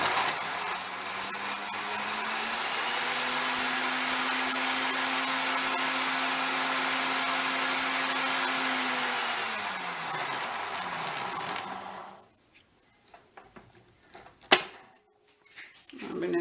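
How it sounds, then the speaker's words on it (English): An electric grinder grinding whole spices for a low-carb curry, a loud steady whirring hum that slowly drops in pitch as it winds down, then cuts off, leaving a few clicks and knocks. "I'm going to grind these spices."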